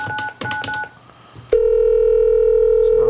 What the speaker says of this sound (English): So we're ringing.